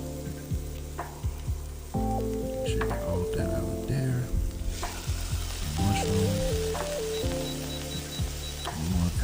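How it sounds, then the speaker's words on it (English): Chopped onion and garlic sauteing in olive oil in a pan, a steady close sizzle with stirring scrapes and clinks, and some background music. "Saute this until the onions become translucent."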